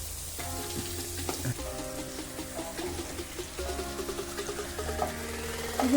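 Paneer and khoa fry in melted ghee and butter in a pan, a steady close sizzle with light scraping and clinks from stirring, and no one speaking.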